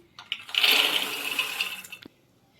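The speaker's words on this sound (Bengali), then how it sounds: "জল ঝরিয়ে দিয়ে দিচ্ছি।" Water from boiled peas pours out through a basket strainer in a single splashing rush lasting about two seconds, close and fairly loud, then stops abruptly.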